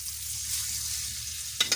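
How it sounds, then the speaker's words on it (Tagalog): Dried fish (bulad) frying in a pan gives a steady, close hiss and crackle of hot oil, with a brief stirring scrape near the end and no talking. "Pag prito ng bulad mga idol, maluto na ng bulad mga idol"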